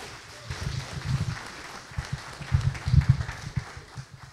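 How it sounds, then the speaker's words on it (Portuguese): A church congregation at a Sunday service applauding for a pastor, uneven bursts of clapping that swell and fade in clusters, moderately close, with voices mixed in. "Dá uma salva de palmas,"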